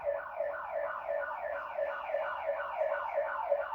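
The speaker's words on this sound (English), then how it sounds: "Oh, it's a fire engine." A fire engine siren wails steadily as the truck drives down a hill, its rising and falling tone repeating in a continuous cycle at moderate distance, with no voices over it.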